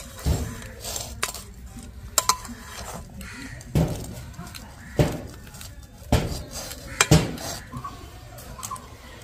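Clinking of a utensil against a metal pan while stirring a two-ingredient barfi sweet mixture, with repeated sharp scrapes and taps at an uneven rhythm, close and fairly loud.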